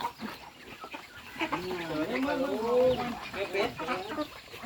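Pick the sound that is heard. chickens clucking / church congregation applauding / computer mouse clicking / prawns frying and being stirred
chickens clucking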